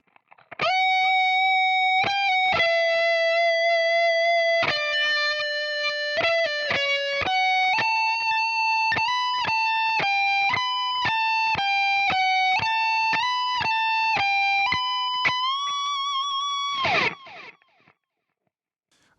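Distorted electric guitar plays a slowed-down eight-bar melodic phrase alone, a steady run of sustained, evenly articulated notes with bright harmonics that stops abruptly near the end.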